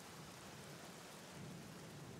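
Steady rain with a low thunder rumble in the horror adventure game The Black Mirror, a dense, continuous wash of falling water with no voices.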